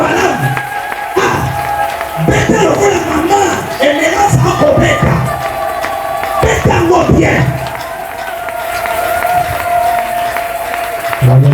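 A church congregation cheers and acclaims during a worship service: a sustained, loud crowd roar with shouts and whoops that swells in waves and carries on for the whole span.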